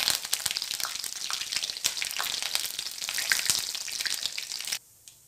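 Cumin seeds and curry leaves sizzle loudly in hot oil for a Marathi katachi aamti tempering, a dense steady frying crackle that continues alone until it cuts off abruptly near the end.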